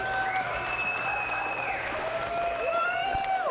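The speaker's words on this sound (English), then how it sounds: "Applause for both of the fighters in this cage." Crowd applause for two fighters in a cage at a BTC 7 mixed martial arts event, steady clapping from a packed hall under a sustained electronic tone, lasting a few seconds.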